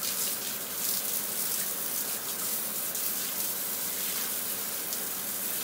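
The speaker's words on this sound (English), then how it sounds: "We just want to get all this rinsed off, wash down this pipe." Steady rush of water from a garden hose rinsing debris down a clogged sewer pipe, a continuous broadband hiss and gush at close range with no talking.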